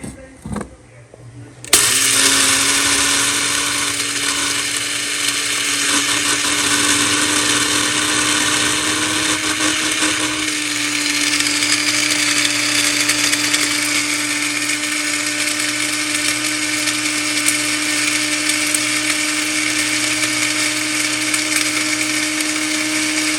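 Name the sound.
grinder grinding dehydrated potatoes into powder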